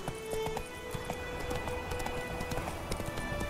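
The horse Roach's hooves clop in a steady trotting rhythm in The Witcher 3, fairly faint beneath game ambience and light background tones.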